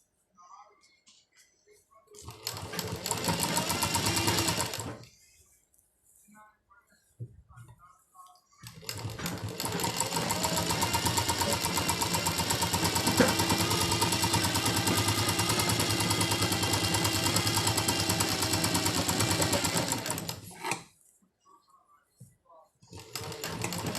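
Sewing machine stitching a Punjabi-style palazzo pajama, two long runs of fast, even mechanical whirring, a short burst and then a longer steady stretch, separated by quiet pauses with faint talk.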